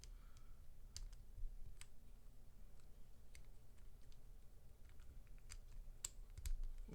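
Typing on a mechanical keyboard fitted with brown switches: a fairly quiet, uneven run of soft key clicks and taps, scattered across several seconds over a low background hum.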